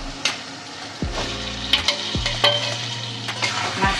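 Catfish for a Bengali boal curry goes into a pan of frying spice paste and is stirred, giving a constant sizzle broken by sharp spatula scrapes and knocks at irregular intervals.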